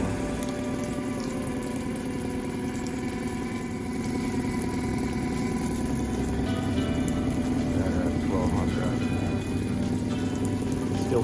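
A Suzuki 9.9 hp outboard motor runs steadily at close range, its idle carrying a slight unevenness from misfiring, with no talk over the continuous engine drone.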